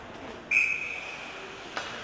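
A single sharp referee whistle blast at an ice hockey game, bright and fairly loud, fading over about a second against a low arena background.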